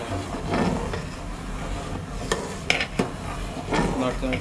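Rice pudding with date jaggery being stirred in a cooking pot, a spoon scraping and knocking against the metal in a steady rhythm, with a few sharper clinks standing out.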